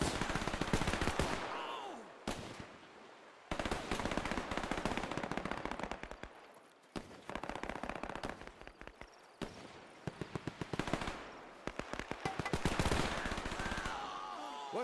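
Machine gun fire in the WWII real-time strategy game Men of War II, long rattling bursts of rapid shots broken by short gaps, loud and close.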